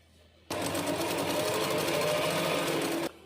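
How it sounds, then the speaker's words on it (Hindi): Sewing machine running a foot-width stitch toward the buckram side of a foam-lined pocha, one steady continuous whirring burst of about two and a half seconds, close and loud, starting and stopping abruptly. "इस सिलाई से अंदर की तरफ, बुकरम की तरफ हम लोग एक पैर का सिलाई करेंगे"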